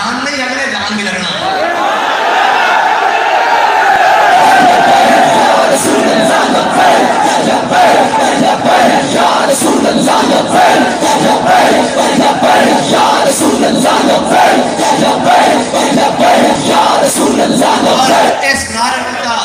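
Large crowd at a religious urs gathering chanting slogans in loud, sustained unison, with rhythmic shouted bursts continuing throughout and no single voice standing out.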